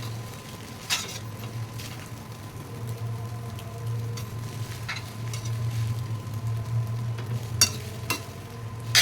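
Chicken noodles stir-fried on a medium flame with assorted sauces give a steady close sizzle, broken by occasional sharp clinks and scrapes of a spatula against the pan.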